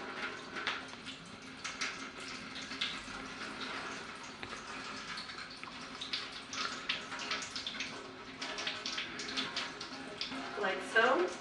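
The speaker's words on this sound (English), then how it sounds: "we're going to go ahead and drain out some of the water." Water trickles and splashes steadily as it is drained from sesame seeds soaked overnight, like liquid pouring from a container into a sink, with faint background noise throughout.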